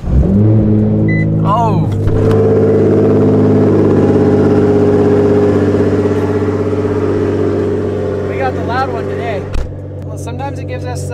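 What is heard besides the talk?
car engine cold start and revving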